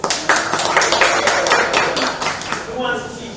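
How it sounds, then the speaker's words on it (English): A live improv audience gives a short burst of clapping to vote. The claps are a quick, uneven patter that fades out, followed by a speaking voice. "clap if you want to see the game"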